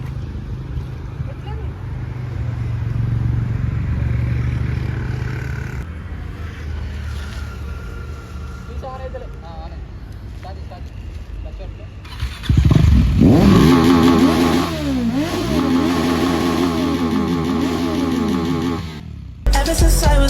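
A motorcycle ride heard as a steady engine drone with passing traffic noise, turning louder and harsher midway as the bike revs and accelerates, with a rider's voice talking over it.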